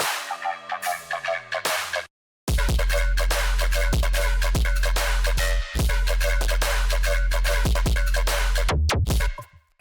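A synth filler part in an electronic dance drop made in Ableton plays as fast bright stabbed hits over a heavy sustained bass, with a short silent gap early on and an abrupt stop at the end.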